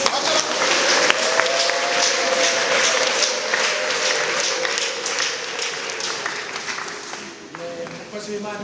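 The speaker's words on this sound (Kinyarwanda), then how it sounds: "tugukomeye amashyi." A church congregation gives sustained applause after a sermon and choir performance, the dense clapping running loud and steady for several seconds before tapering near the end, with a voice talking over it.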